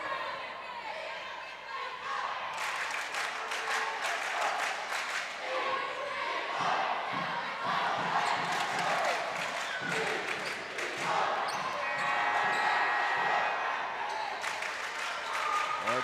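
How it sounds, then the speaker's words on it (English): Spectators in a high school boys basketball gym between Redwater and Atlanta, including the student section, cheer and clap in loud swelling bursts, with sneaker squeaks, ball noise and a commentator talking over the crowd. "Most student sections are going crazy tonight."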